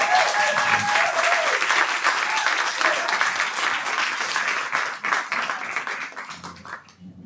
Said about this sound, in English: So please, a big round of applause and congratulations to Dr. Harrop.